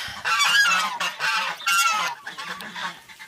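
Several loud, harsh honks from a large gander in quick bursts, close by, with other farmyard fowl calling faintly underneath.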